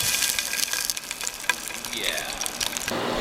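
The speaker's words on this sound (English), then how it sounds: "See if we can get the sizzle in there." Rheinische bratwurst sausages sizzle and crackle in a hot pan, with irregular pops and spatters, close up.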